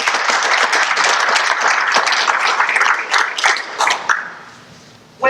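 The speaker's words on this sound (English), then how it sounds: "give ourselves a round of applause" Crowd applause at a gathering with Georgia governor Nathan Deal in Augusta, a dense burst of clapping that holds steady for about four seconds and then tapers off into quiet.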